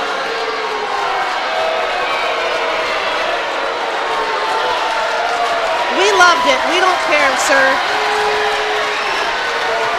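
Excited home crowd in a high-school varsity boys basketball gym roars and whoops after a technical foul, a steady wash of cheering with a louder swell partway through. Commentators talk over the crowd.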